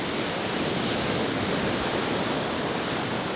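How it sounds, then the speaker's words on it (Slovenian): Sea waves washing onto a white sand beach in Oman make a steady, dense broadband roar of surf, continuous and fairly loud throughout with no pauses and no voices. "in ima tudi takole rajsko morje, plažo"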